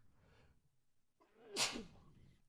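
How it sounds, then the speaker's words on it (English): A single loud, close sneeze bursts out after a stretch of quiet background murmur, with a brief breathy tail as it fades. "I gotta sneeze real quick."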